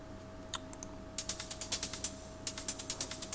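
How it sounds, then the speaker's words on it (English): Crisp, bright hi-hat hits tick in a steady rhythmic pattern, short ticks with a light wash of reverb trailing each one. "and then your hi-hats will sound something like this."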